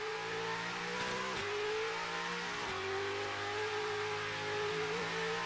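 A Corvette engine revs on a race track during time attack practice, with steady loud harmonic drone rising and dropping through gear changes across the whole stretch, no voices.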